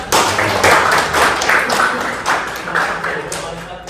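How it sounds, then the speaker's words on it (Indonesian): A small group claps for a student presenter at an academic presentation: bursts of hand claps in a loose, uneven rhythm, fairly close, fading and swelling over a few seconds. "tepuk tangan untuk Kalista"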